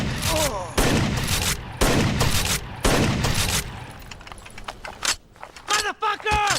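Bursts of rapid automatic gunfire in a video game come in several loud volleys, each lasting close to a second. Short pauses separate them, and shouted talk and chirping effects can be heard near the end.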